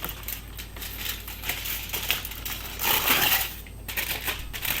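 Aluminium foil crinkles and crushes close up, a continuous crackling rustle with bursts of louder crumpling, no voices.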